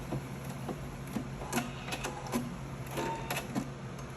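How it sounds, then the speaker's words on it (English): A sewing machine back stitches the end of a bonnet seam, a busy mechanical clatter of short repeated bursts, close and steady, with no talking. "I'm going to back stitch and I'm going to cut my threads."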